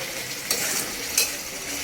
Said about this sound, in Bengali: এখন তো মাটনটা কষা হবে, আগে নাড়াচাড়া করতে হবে একটু।